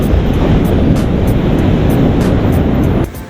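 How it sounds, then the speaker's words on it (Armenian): Stormy sea waves break along the Sri Lanka coast in a loud, continuous roar, with rumbling surf and gusting wind washing over the microphone, dropping off sharply near the end. "Ծովը փոթորկում է"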